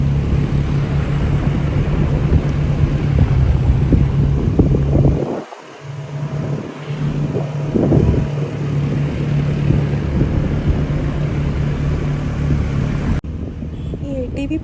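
An ATV bike rides along a snow-covered road in Kashmir, its engine giving a steady, fairly loud drone with wind rush, briefly dipping midway before continuing.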